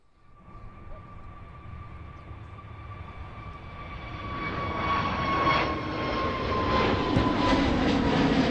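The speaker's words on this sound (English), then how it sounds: "EasyJet aircraft just departing in front of us there is outbound to Hurghada." An EasyJet airliner departing Manchester Airport, outbound to Hurghada: a steady jet engine roar with tonal whine that swells louder over the clip as the aircraft climbs away nearby.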